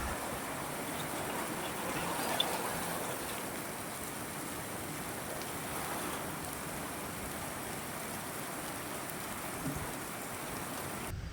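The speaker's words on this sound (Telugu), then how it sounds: "సో వర్షం అయితే ఇంకా తగ్గలేదన్నమాట. బీభత్సంగా అయితే పడుతూనే ఉంది." Heavy rain falls in a dense, continuous roar of drops on surfaces, steady and enveloping for the whole stretch, with no voices and only a couple of faint knocks.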